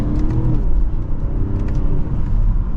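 A 2023 BMW 540i M Sport engine rumbles loudly from inside the car as it picks up speed, a steady low drone with rising whirring tones.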